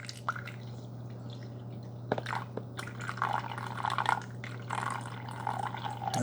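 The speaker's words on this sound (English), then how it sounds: "Let's put our water in." Water pours into the reservoir of a Hamilton Beach 42500 cold brew and hot coffee maker, filled to the 8-ounce mark. Close trickling and dripping splashes sound over a steady low electrical hum.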